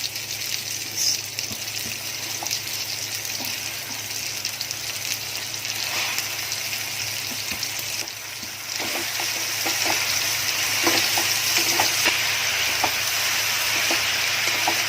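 Spinach added to potatoes frying in a pan sizzles steadily and close, with soft stirring scrapes and a brief louder burst of hiss partway through, no talking over it.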